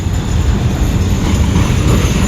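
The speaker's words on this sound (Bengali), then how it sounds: "দেখেন চলে আসলো ট্রেন" Loud, close rumble of the Titumir Express arriving at a station, rattling wagons rolling past steadily, a faint high squeal riding on top.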